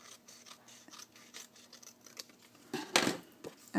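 Scissors snipping off the edge of a sheet of paper while making a Valentine's Day card, with a series of short, close crisp cuts and a louder crunching cut toward the end.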